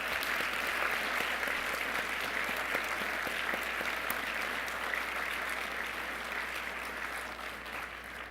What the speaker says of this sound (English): So I think he and Mary Ann both need another round of applause.